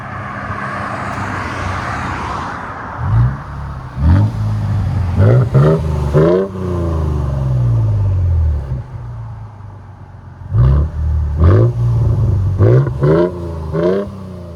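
A 2022 Toyota Tundra with a 3.4L twin-turbo V6 and Borla ProXS exhaust idles with a low rumble, then blips through sharp, loud revs in two bursts separated by a steady idle, heard close up.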